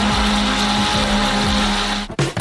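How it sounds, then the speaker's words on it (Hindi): Blender beating strawberries with 2 kg of sugar, a steady loud motor whir with a constant hum running throughout, cutting off abruptly near the end. "हम इसे एक ब्लेंडर के साथ अच्छी तरह से बीट करेंगे।"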